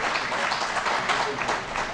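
Applause at a horticulture conclave valedictory award ceremony, a dense, steady burst of many hands clapping from a sizable audience throughout.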